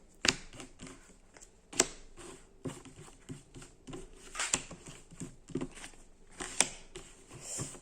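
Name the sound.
tarot cards being drawn and laid out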